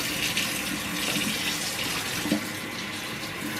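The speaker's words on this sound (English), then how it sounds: "Then after I cut them up, I put them in a bowl and rinse them real good" Water sloshing and running steadily as cut morel mushrooms are rinsed in a bowl, close and continuous with a small splash midway.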